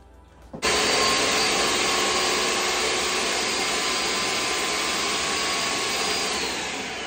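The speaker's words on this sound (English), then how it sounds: "So I'm gonna be using my Ninja food processor." A Ninja food processor rices cauliflower, starting abruptly and running as a loud, steady whirring roar with a high motor whine that holds for several seconds and eases slightly at the end.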